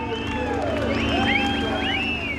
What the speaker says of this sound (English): the Santa Pod crowd are lending their full vocal support